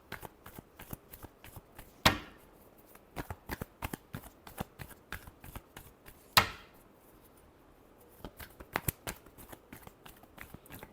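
Tarot cards being shuffled in repeated crisp riffling bursts, close and fairly quiet, with two sharper snaps standing out among the quick flutters.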